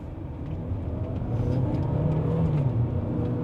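A Jaecoo J7 AWD with a 1.6-litre turbocharged four-cylinder and seven-speed dual-clutch gearbox pulls hard in sport mode on a mountain climb to Genting, Malaysia. The engine note swells and rises steadily as it accelerates, heard from inside the cabin.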